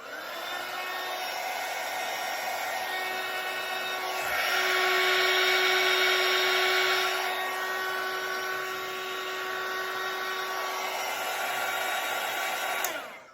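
Heat gun blowing steadily while Worbla thermoplastic is heated and wrapped around wire hair strands, a continuous close airy whoosh with a constant whine that swells louder for a few seconds in the middle, no talking.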